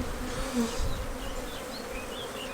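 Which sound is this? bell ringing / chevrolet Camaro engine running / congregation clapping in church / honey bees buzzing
honey bees buzzing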